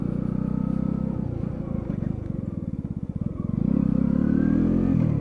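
A light Lexmoto Riot motorcycle is ridden along a road, its engine a close, steady rumble with a rapid pulsing putter in the middle and a rising rev near the end.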